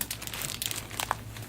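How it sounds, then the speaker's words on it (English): A large plastic bag crinkles and rustles up close as a pre-owned board game is pulled out of it, a busy run of crackling and scrunching with a few sharper crackles. "I'll be pulling it out of a giant plastic bag"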